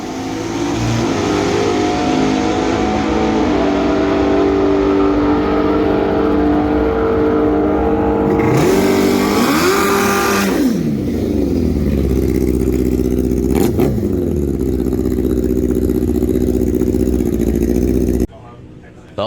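A Pro ET class drag racing car revs loudly at close range. The engine note climbs and falls in sweeping surges, then holds a rough idle before cutting out abruptly, and an announcer talks over it.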